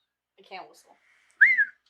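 A person tries to whistle, a short weak breathy attempt followed by a clearer brief warbling whistle, close and otherwise quiet.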